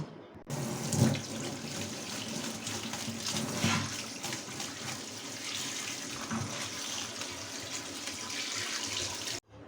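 Steady running tap water pours and splashes into a sink, continuous and close, with occasional louder gushes as grated papaya is rinsed under the stream.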